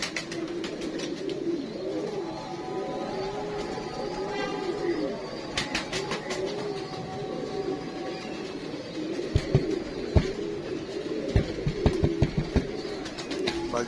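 Royal Teddy pigeons cooing steadily in a low, continuous chorus, with scattered sharper taps and claps that may be wing flaps, moderately near and without speech.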